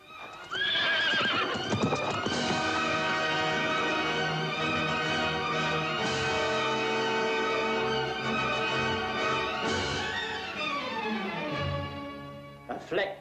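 A horse in an animated fairy-tale film whinnies and neighs with hooves clip-clopping, set against a loud, continuous orchestral score that stays up front for the whole stretch.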